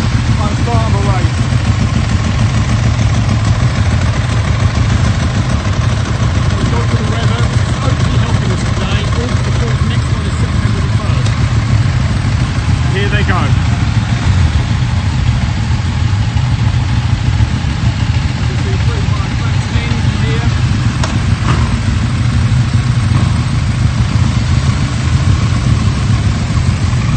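A group of motorcycles idles together at the start of a rideout, a continuous low, rumbling engine drone that stays loud and even throughout.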